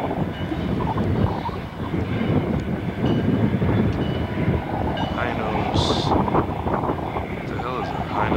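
A Montana Rail Link train rumbles at the Livingston rail facility, a loud continuous roar of rolling cars with wind buffeting and voices mixed in.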